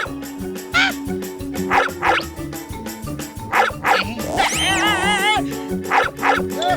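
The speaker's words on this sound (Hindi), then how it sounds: "अब जॉन को जंगली कुत्ते काटेंगे" Wild dogs bark in a cartoon, a string of loud, close yaps and bow-wows over a droning music bed, with a brief wobbling, squealing effect near the end.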